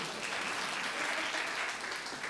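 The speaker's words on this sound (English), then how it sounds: "you want to clap?" Audience applause at a US Fish and Wildlife Service public meeting, an even, unbroken wash of clapping from a crowd, heard somewhat distant and fairly soft.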